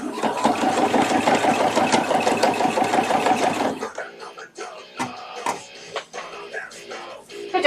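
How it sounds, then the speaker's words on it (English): A home sewing machine stitches a costume in a continuous, fast, close-up whir, then cuts off about halfway through, leaving scattered clatter and soft voices talking in a room. "he's stepping on my presser foot, or not my presser foot, my sewing machine pedal, and trying to stitch my hands into my costume"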